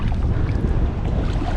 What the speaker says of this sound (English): I'm gonna paddle across this, and then I'm gonna let the wind drift me back.